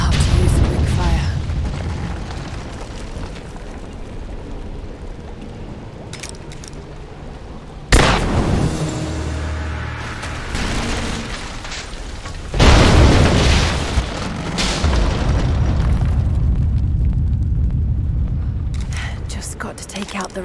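Greek fire vessels explode in Rise of the Tomb Raider. Two sudden loud booms land several seconds apart, each followed by rumbling debris, over a bed of game ambience and mechanical creaks, with occasional speech.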